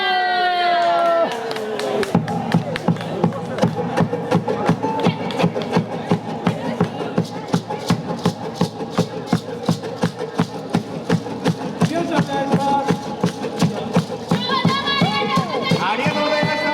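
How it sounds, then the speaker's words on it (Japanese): An outdoor crowd at an autumn shrine festival claps steadily in time with an upbeat song, a loud, regular rhythm of handclaps over the music that continues through most of the passage. "みんなの手拍子お願いいたします。"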